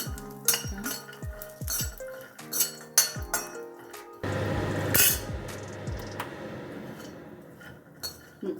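Walnuts roast in a little ghee in a pan over a low flame, with light metallic clinks and rattles of nuts and spatula against the pan, then a steadier scraping sizzle settling in midway.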